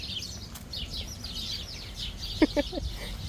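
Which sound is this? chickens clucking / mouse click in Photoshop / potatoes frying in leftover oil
chickens clucking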